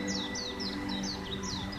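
Small cartoon bird chirping in a Hindi animated story as it comes to sit beside a holy man: a string of quick, bright, repeated chirps over a steady low background hum.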